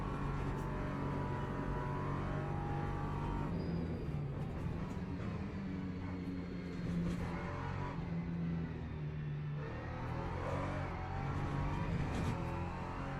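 Steady engine drone of an LMP3 race car in the video game Le Mans Ultimate, a continuous fairly quiet hum with slight rises and dips in pitch as the car is driven, and no talking.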